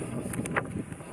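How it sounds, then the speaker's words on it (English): Outdoor wind buffets the microphone, giving a short burst of rumbling, gusty noise at moderate level. "the wind is not helping here today"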